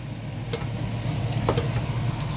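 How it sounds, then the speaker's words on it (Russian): Chicken, onion and carrot frying for pilaf in a pan, with a steady close sizzle and a few soft scrapes and clinks of stirring, no voices. "И обжариваем мясо, лук и морковь, периодически их помешивая до мягкости моркови."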